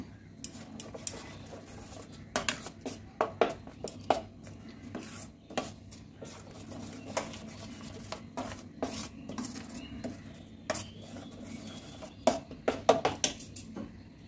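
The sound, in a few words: mixing chicken with roasted gram flour for chicken chaap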